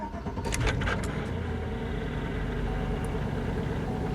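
A 2005 Chevy Tahoe Z71 with a check engine light on cranks briefly with a few quick clicks, then catches and settles into a steady, even idle, close by and without talk.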